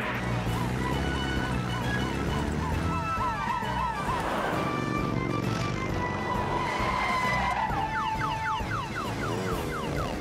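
Cartoon vehicles from the animated Fireman Sam series speed through town streets, with continuous loud engine roar, tire squeals and sweeping pitch changes, mixed with background sound effects.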